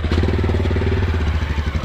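A motorcycle engine idles close by on a street during a chase after a giant kite, a steady low throbbing putter with slight rhythmic pulsing and no talk over it.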